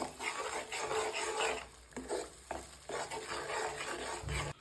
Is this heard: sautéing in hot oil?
yes